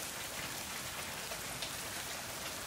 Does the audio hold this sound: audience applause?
no